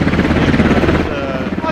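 Helicopter rotor chop in a video game, a loud steady thrum throughout, heavily overlaid by excited shouting voices.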